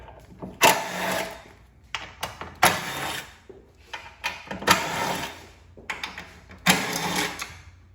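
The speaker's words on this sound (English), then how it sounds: "I take an electric impact with an extension and a T27 Torx Bit to remove them" An electric impact driver with an extension and T27 Torx bit removes bolts from a Fiat 500 Abarth during radiator replacement: repeated loud rattling bursts of hammering, several separate runs with brief pauses, close up.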